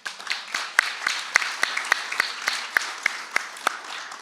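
Audience at the 10th Moldovan-American Convention applauds, a dense wash of clapping with sharper individual claps standing out in an irregular rhythm, moderately loud and steady throughout.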